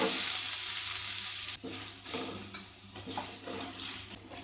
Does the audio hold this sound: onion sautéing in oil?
yes